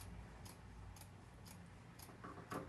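Scissors cut through fabric folded into three layers, making a series of evenly spaced, faint snipping crunches about every half second.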